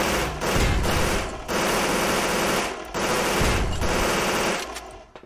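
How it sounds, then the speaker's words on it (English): Rapid automatic minigun fire in the online battle royale game surviv.io, loud sustained bursts of dense clattering shots separated by brief pauses, no voices. "It's funny how the minigun is like one of the worst weapons in the game"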